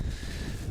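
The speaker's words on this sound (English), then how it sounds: "It's got quite windy as well now." Low, steady wind buffets the microphone with a soft rushing roar, fairly faint and continuous, with no voices, at a freezing winter camp on the West Pennine Moors.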